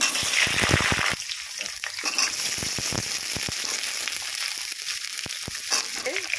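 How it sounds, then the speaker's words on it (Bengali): Potato and papaya pieces fry in hot oil in a kadai. A steady, close sizzling hiss runs throughout, with scattered crackles and pops and no talking. "তেল গরম হয়ে গেছে, আলু আর পেঁপেটা ভেজে নিচ্ছি।"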